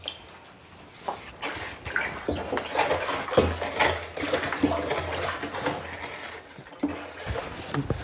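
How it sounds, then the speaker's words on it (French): Liquid biofertilizer being stirred in a barrel, with continuous sloshing and swirling water, irregular surges and splashes, close and moderately loud with no talking. "Maintenant, nous allons bien mélanger le liquide dans le tonneau."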